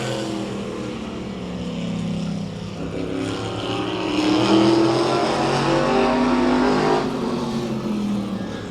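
Mike Smith's No. 27 race car at Claremont Motorsports Park roars into turn 4, its engine a loud sustained drone that swells and rises in pitch as he gets back on the gas, with other engines blending in.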